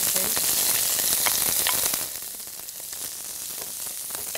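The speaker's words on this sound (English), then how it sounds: "The oil has been heated. Yes, we add our onions." Onions tipped into heated oil in a pan while cooking breakfast, giving a loud, dense sizzle that drops to a softer, steady frying hiss partway through.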